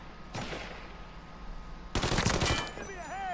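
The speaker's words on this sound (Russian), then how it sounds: "Давай, стреляй." Gunfire in the video game Mafia 3: a short burst early on, then a louder rapid volley near two seconds, followed by game noise with a voice in the background.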